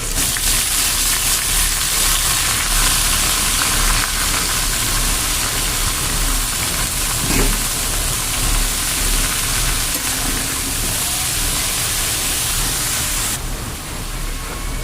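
Red amaranth greens land in a hot pan and sizzle, a steady, loud broadband hiss that holds evenly for the whole stretch with no talk over it.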